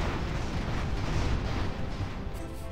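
Small cannons firing in rapid succession during an airship battle in Airships: Conquer the Skies, a dense, continuous rumble of overlapping booms with no clear gaps, loud and steady throughout.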